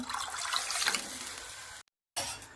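A steady stream of water pours into a pan of gram-flour kadhi mixture with a rushing splash, cuts off abruptly, then briefly resumes.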